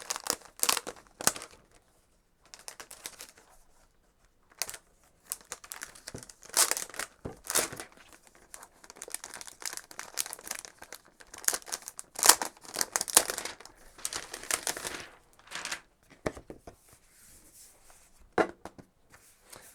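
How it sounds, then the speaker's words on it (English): Cellophane wrapping is crinkled and pulled off a new ROG Zephyrus G14 2021 laptop, making close, irregular crackling and rustling bursts separated by brief quiet gaps. "they've covered it in cellophane."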